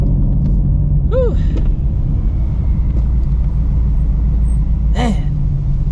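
Steady low engine rumble heard from inside a Ford Shelby GT350 while driving, loud and continuous, with a couple of brief whistling sounds over it.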